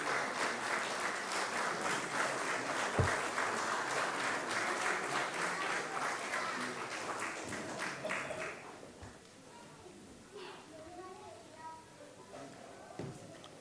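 An audience at an Independence Day award ceremony applauds an honoree with a sustained, fairly loud wash of clapping that drops to a quieter level past the midpoint, where a few scattered claps and faint voices continue.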